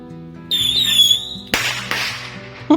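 Bottle rocket fireworks launched outdoors at dusk: a rising whistle followed by a sharp crack and a second pop, then another short burst at the end, loud and close.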